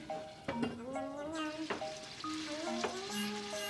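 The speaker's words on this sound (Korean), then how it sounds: "지난번에 만들어 놓은 미트볼을 올리브유 가득 뿌리고 구워주시면 돼요." Meatballs sizzle steadily in plenty of olive oil in a pan, with a few sharp clinks of a utensil against the pan and occasional stirring; no talking.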